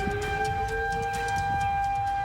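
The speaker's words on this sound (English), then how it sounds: "Sirens going off as a viewer captured this video of a funnel cloud." Civil defense sirens wail during a funnel cloud sighting in the Janesville and Edgerton area, a steady sustained tone layered over rumbling wind-like noise, with no speech.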